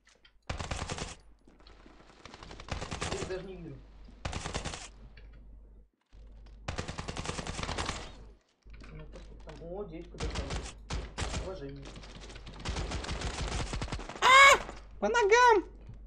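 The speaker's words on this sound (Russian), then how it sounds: "Стреляю по ногам" Rapid automatic gunfire in the mobile shooter Standoff 2, with bursts of shots repeating through the scene alongside a player's voice talking over the action.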